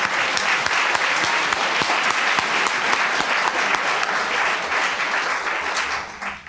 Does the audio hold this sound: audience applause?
yes